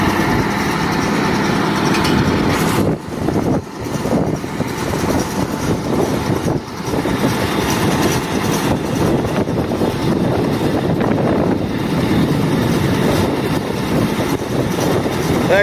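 A Massey Ferguson Hesston 1745 hay baler runs steadily outdoors during a trial, its continuous loud engine drone and mechanical rumble persisting throughout with wind buffeting the microphone.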